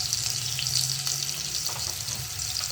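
Chopped potatoes frying in hot oil with nigella seeds for a simple turmeric-and-salt Bengali dish, a steady loud sizzle and crackle of frying throughout with no speech.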